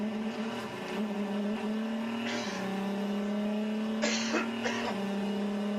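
A Le Mans race car engine holds a steady high drone, then surges twice in sharp revving bursts as its KERS hybrid boost kicks in, loud and close throughout.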